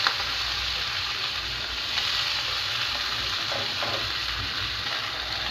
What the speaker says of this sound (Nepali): जल्यो पहिला तेल हाले, त्यसपछि फोरन, त्यसपछि अदरक लसुन र खुर्सानी त्यो पनि डढिसक्यो। अब यो साग